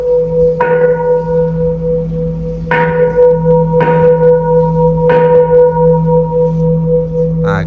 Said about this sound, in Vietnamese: Các anh mình đã gõ chuông vào buổi trưa để mà lễ cúng thời trưa.